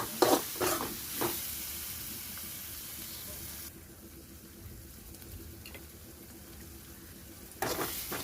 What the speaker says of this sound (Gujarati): બરાબર મસાલો સરખો તેલમાંથી આવી જશે ને ત્યાં સુધી તેને મિક્સ કરીને હલાવતું રહેવાનું